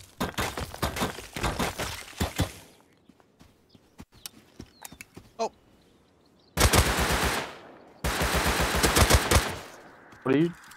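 Rapid automatic gunfire from the video game Rust rattles in dense bursts, with scattered single shots in a quieter middle stretch and two long loud volleys near the end.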